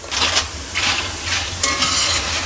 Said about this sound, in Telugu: మంచిగా గోల్డ్ కలర్ వేపుకోవాలి